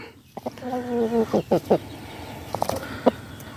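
A rooster, a crossbred breeding cock, gives a crow followed by several loud clucking calls, with someone talking in between.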